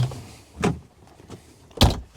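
A Can-Am Defender side-by-side with a full cab makes short mechanical thumps and whirs, like power windows and doors working inside the cab. The sounds come as a few separate near bursts over quiet background.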